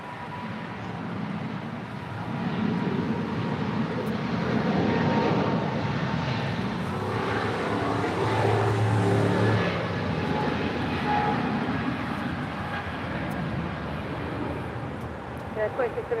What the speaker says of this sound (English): That is United Airlines 2390 Heavy departing to Honolulu on a 22-year-old 777-200 ER.